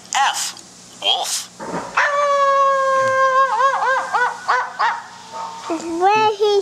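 A wolf howl plays from a children's first-words animal learning game: a long, wavering tonal howl that rises and bends, with short voices of an adult and child before and after.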